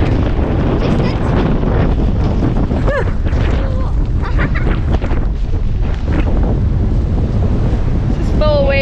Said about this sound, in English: Bloody windy, I tell ya.